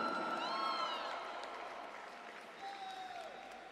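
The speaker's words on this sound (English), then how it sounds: "Give it up, make some noise for Sushmita." Audience applause and cheering fill an arena after a professional debut MMA fight between female fighters, a steady dense clapping with whistles and shouts, loud and continuous, fading slightly toward the end.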